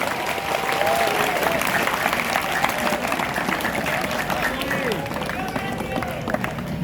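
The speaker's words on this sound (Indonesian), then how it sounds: "Tepuk tangan buat Pak Kepala Sekolah dan Guru." Audience applause for the principal and teachers at a high school opening ceremony, a continuous even clapping from a crowd lasting the whole stretch, with some voices and faint tones beneath.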